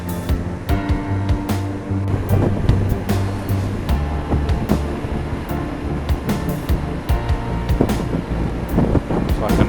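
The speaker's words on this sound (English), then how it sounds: "It's like another lovely beach over there." Waves wash onto a Scottish beach near Eilean Donan Castle, a steady broadband surf rumble under gusting wind buffeting the microphone, with no clear break in the sound.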